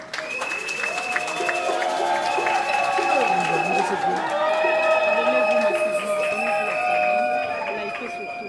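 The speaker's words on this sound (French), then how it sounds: "Je vous demande de l'applaudir, s'il vous plaît." An audience applauds steadily at an enthronement ceremony, with dense clapping throughout and music playing loudly over it.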